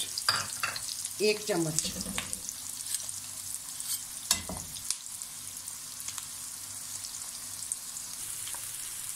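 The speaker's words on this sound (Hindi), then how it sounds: "ये जाएगा अदरक लहसुन का पेस्ट" Ginger garlic paste sizzles in hot oil for Kabuli pulao, a steady frying hiss with a few sharp spattering bursts and stirring clatter near the start and middle, while a voice speaks briefly.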